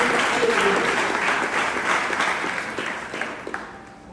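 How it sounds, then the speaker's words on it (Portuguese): A church congregation applauds during a service, with sustained crowd clapping that is loud at first and slowly tapers toward the end. "Eu convido a igreja mais uma vez a aplaudir a Jesus."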